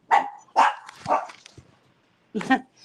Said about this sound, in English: I know the dogs are going to bark